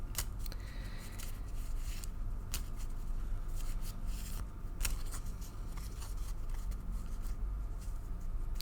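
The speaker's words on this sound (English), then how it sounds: "I shuffle until Spirit asks me to stop." A deck of tarot cards is shuffled close by in a steady stream of soft papery rubbing and light slaps, with sharper flicks now and then and no voices.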